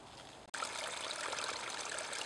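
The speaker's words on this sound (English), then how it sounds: "This is our little waterfall." Water trickles and splashes steadily over a small backyard waterfall, a close, continuous broadband rush that begins abruptly after a brief quiet moment, with no voices.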